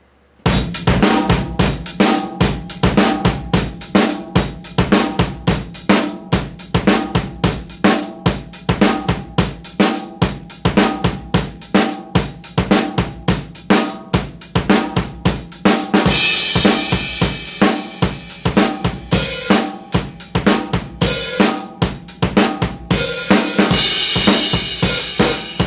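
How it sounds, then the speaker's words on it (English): Drum kit playing a 7/8 groove on bass drum, hi-hat and snare with variations, a dense continuous rhythm with steady kick thumps, busy hats and cymbal wash swelling in later passages, loud and close. "I'm doing that on the bass drum and hi-hat and snare, again in 7/8"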